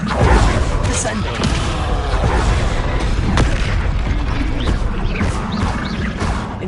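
Descendo spell impact in a Hogwarts wizarding video game, with heavy booms, creaks and crashing mechanical thuds layered in a continuous loud battle din.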